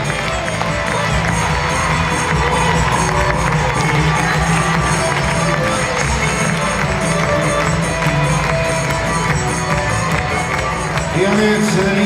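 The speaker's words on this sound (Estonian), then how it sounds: "Täname neid aplausiga." Crowd applause and cheering at a horse show, a steady dense roar of clapping and voices sustained throughout, with an announcer talking over it.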